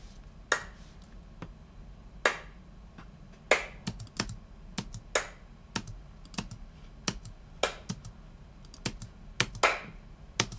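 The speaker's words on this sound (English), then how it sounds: "I'm gonna listen for a clap that I like." Sharp single hand claps in an office, each followed by a short room tail, repeated roughly every second or so at irregular intervals, fairly close and alone with no talking.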